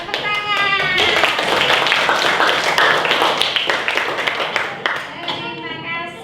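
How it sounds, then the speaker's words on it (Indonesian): Schoolchildren in a classroom clap their hands in a dense, steady burst lasting several seconds, close and loud, with children's voices heard at the start and end. "Iya, tepuk tangan."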